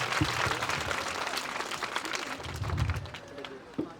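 An audience claps together at a school's annual function and award ceremony in Airal, the dense applause holding steady for about four seconds with a few louder bursts, mixed with crowd murmur.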